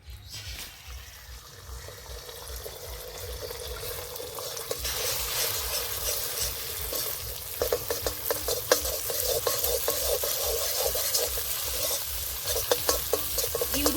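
Oil sizzles and crackles steadily in a pan as eggs fry, with occasional scraping and stirring sounds growing busier toward the end.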